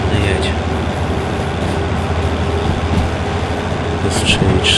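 Locomotive hauling a heavy freight train in the video game Derail Valley, a steady loud rumbling engine drone with constant low-end roar and faint hiss, running continuously with a voice talking over it.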